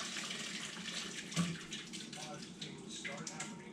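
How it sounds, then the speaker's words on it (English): Giardiniera vegetable mixture with its liquid poured and drained through a colander, a steady close rush of water splashing with a brief louder gush, under a voice talking. "we're gonna drain this mixture through a colander"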